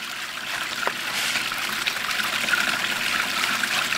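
Water trickling and splashing through a Gold Grabber funnel feeder used for recirculating gold-prospecting material, a steady close gurgling flow with no one talking.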